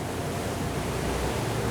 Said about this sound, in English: Here are those big ocean waves that are definitely going to put the boat to the test.